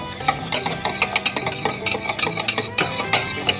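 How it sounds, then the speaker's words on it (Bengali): Whisk rapidly beating a cup of sour yogurt in a bowl until creamy, a close, steady run of quick rhythmic scraping strokes and light clinks against the bowl, with no talking. "এখন একটা হুইস্কের সাহায্যে টক দইটাকে ক্রিমের মতো একদম ফেটিয়ে ফেলতে হবে"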